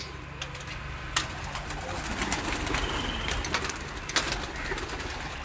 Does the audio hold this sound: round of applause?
no